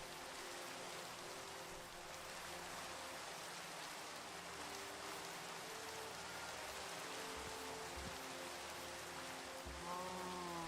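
Minecraft rain falls as a continuous, even hiss of dense droplets, soft and steady throughout, with a few faint low thumps and a brief tonal chime near the end.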